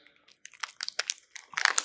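A chocolate-topped crispy rice cereal bar with chocolate chips is bitten and chewed close to the mic, giving a quick series of sharp, crackly crunches that grow denser toward the end.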